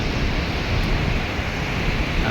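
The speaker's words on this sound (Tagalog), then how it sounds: "Tapos mahangin ito guys sa Makati guys." Continuous wind in Makati City on a rainy, overcast day roars and buffets across the microphone, a dense rushing noise with no pauses, loud and steady throughout.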